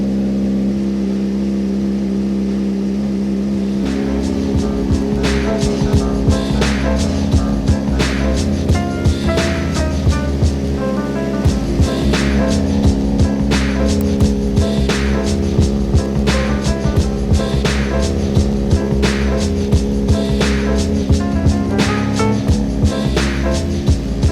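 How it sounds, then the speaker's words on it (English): A rebuilt Suzuki GSXR motorcycle engine idles loudly and close by, settling from a smooth hum into a steady rhythmic putter with repeated sharp ticking pulses throughout. "Running really good."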